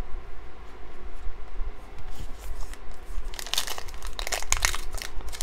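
Padding material laid out over a table before card box breaks, soft crinkling and rustling close by, growing busier and louder toward the end, with no talk.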